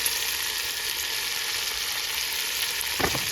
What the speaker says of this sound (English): Now we're going to cook vegetables for about 3 minutes till they're slightly tender.